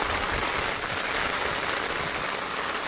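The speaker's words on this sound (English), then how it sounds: "It's been raining for a while." Rain patters steadily on a surface, a dense, even hiss of drops with no voices.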